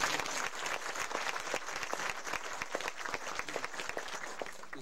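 Church congregation applauding at a dedication service, steady dense clapping from many hands filling the room throughout without a break.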